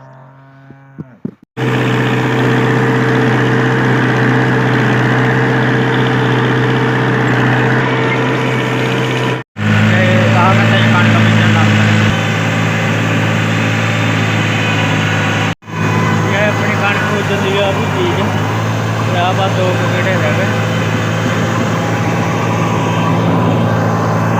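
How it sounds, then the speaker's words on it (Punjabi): Tractor engine running steadily in a wheat field during sowing, a loud continuous low drone that holds throughout, broken by two brief cutoffs, with no speech over it. "ਹੁਣ ਚੜਾਉਣ ਲੱਗੇ ਆ ਟਰੈਕਟਰ ਬਾਹਰ ਕੱਢਣ ਲੱਗੇ ਆ"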